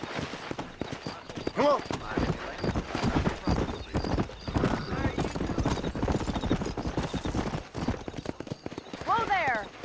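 A horse gallops in the Red Dead Redemption video game, rapid rhythmic hoofbeats with whinnies near the start and end, while someone speaks over the ride.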